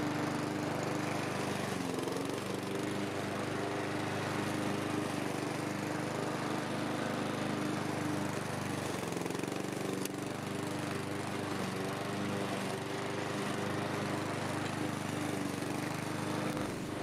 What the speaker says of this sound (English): now I can mow the lawn as short as possible